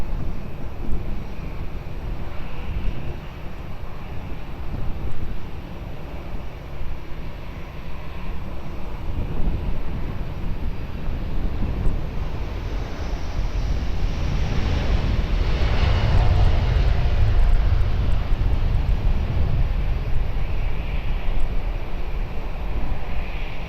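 Jet airliner at Lisbon Airport powering up for takeoff, a steady broadband engine roar that swells toward the middle and stays loud and close, with wind rumble on the microphone.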